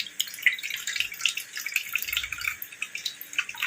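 Soaked tamarind water being strained in a home kitchen while cooking breakfast and lunch, with a steady trickle and drip of liquid falling through in close, quiet bursts and no talking.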